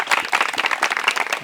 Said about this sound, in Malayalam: അതിനൊരു കൈയടി കൊടുക്കുക.